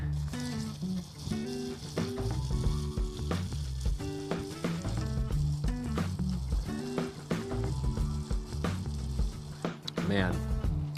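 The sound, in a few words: trout frying in a frying pan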